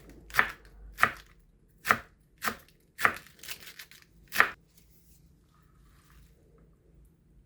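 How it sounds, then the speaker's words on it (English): Knife chopping cabbage into thin slices on a board for a salad: six sharp, evenly spaced cuts close up, then a quiet pause with faint handling noise. "Now the cabbage, the same cut, thin slices."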